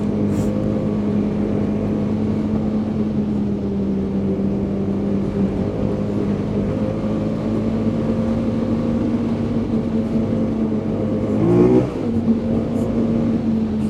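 A 2024 Polaris Indy Adventure 137 snowmobile with a Pro Star S4 four-stroke engine drones steadily under acceleration, loud and close, its pitch rising slightly, then wavering briefly near the end.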